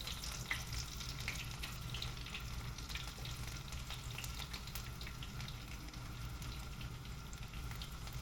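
Whole garlic cloves sizzling in hot oil for a Konkani bombil tempering, a steady close crackle and hiss that runs unbroken throughout with no talking.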